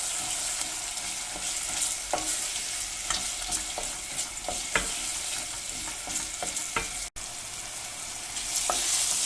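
Tomato and pepper paste sautéed and stirred with other ingredients for a minced-meat green lentil dish, a steady sizzle with repeated spoon scrapes and clicks against the pan, close and continuous, with no one talking.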